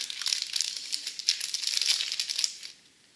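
Plastic packaging around a nail file crinkles and crackles steadily for a few seconds, close and bright, then stops.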